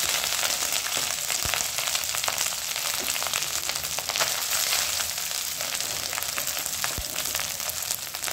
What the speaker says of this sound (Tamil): சூடான சாதத்தை போட்டுக்கோங்க